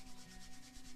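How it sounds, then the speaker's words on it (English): Hands rub together in a soft, steady swishing rhythm of quick back-and-forth strokes, faint and close, with no talk. "And then rub the hands together,"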